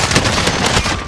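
Dense, continuous automatic gunfire from a modern military shooter game, loud and close, with rapid overlapping bursts and no gaps across the short stretch.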